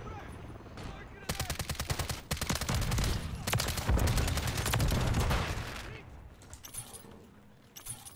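A BAS-B rifle in the video game MW3 fires fast, sustained bursts of loud automatic gunfire, densest in the middle and tapering off near the end, with players talking underneath.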